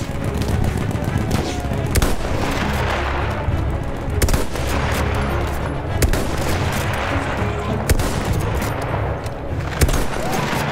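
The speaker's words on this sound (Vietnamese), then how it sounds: "Cái súng ngắm này cũng ngon đấy chứ." Dense, rapid gunfire crackles continuously, with sharper loud sniper rifle shots punctuating a steady barrage, in a Battlefield 1 firefight.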